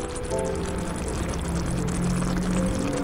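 Water poured into chicken tikka masala cooking in a pan, a continuous close pouring and sizzling wash that holds steady for the whole three seconds with no one speaking.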